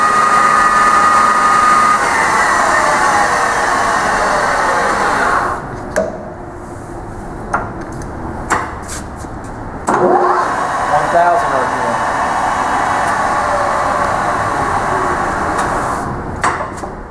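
A Microweiley precision geared head lathe runs at high speed, around 1,600 RPM, a loud steady mechanical whine and hum that holds throughout, with a few shifts in pitch and clicks as it changes.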